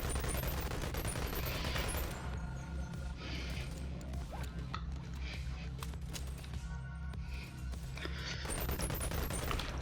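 SMG gunfire from the VR game Boneworks comes as dense rapid bursts over a low droning background, loud and sustained, easing briefly midway before resuming.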